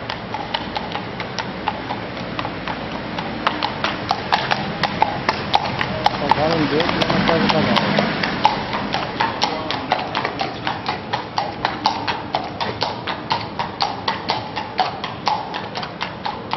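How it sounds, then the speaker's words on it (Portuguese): Horses walk through a narrow London alley, hooves clip-clopping in a steady, close rhythm that swells slightly midway, with a voice talking over the hoofbeats. "Barulho de cavalos andando."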